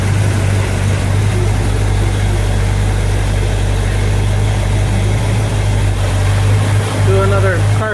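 A Pontiac GTO V8 idles close by during carburetor adjustment, a loud, steady, even rumble running throughout as someone talks over it.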